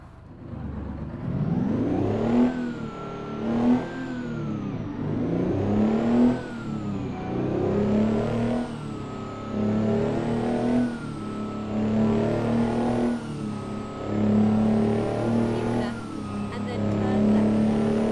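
A Mack R truck with a 2-stroke engine accelerates from first gear in American Truck Simulator, its engine rising and falling in pitch through repeated revs and gear changes, loud and continuous.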